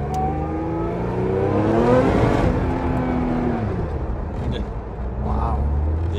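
A Radford supercar engine revs hard in second gear and climbs in pitch as it accelerates, then eases off, loud and close inside the cabin.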